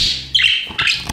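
A pet budgerigar gives a few short, bright chirping calls in two quick bursts, close and fairly loud, with no talking.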